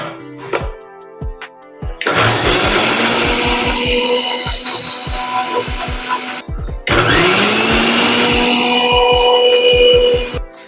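A mixer grinder runs on coconut chutney ingredients: fresh coconut, garlic, green chillies, cardamom, salt and a little water. It whirs loudly and steadily in two long bursts with a short pause between, after a few light knocks at the start.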